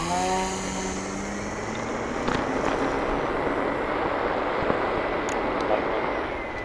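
A Timber X 1.2 RC plane's electric motor spins up for takeoff, a rising whine that settles into a steady buzzing drone, close and fairly loud, with a brief voice over the opening.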